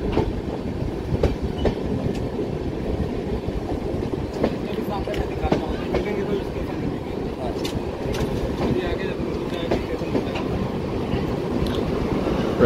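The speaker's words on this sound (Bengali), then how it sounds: "প্রায় 52 মিনিট দেরিতে এখন আমাদের এই ট্রেন চলছে।" The 13307 Ganga Sutlej Express runs steadily on its rails, a continuous loud rumble with faint clickety-clack from the wheels over the track, heard from inside the train.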